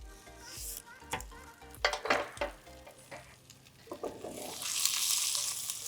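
Onions for seeni sambol fry in a pan, giving a soft sizzle under clinks and scrapes of a utensil stirring against the pan, with the frying swelling louder near the end.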